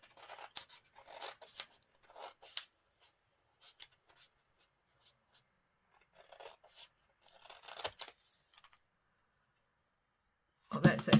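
Scissors trim paper for a handmade envelope folio in short, quiet bursts of snipping and rasping, separated by pauses, with a louder rustle at the end.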